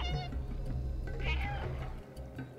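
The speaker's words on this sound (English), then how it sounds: "Press the meow button to see if it echoes." Cat meows in the video game Stray, a few short tonal mews close up over a low hum of game ambience.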